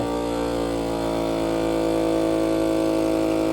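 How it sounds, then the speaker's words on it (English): A vacuum sealer's electric pump drones continuously at close range, pulling air from a food storage bag, its motor tone gradually shifting slightly in pitch as it runs. "what you're hearing is the pump now pulling all the air out of this bag"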